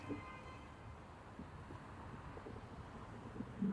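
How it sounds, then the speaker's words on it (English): Gusty wind buffets the microphone on a Toronto street in a steady low rumble, swelling slightly toward the end with no voices. "Oh my gosh, it got so windy right now."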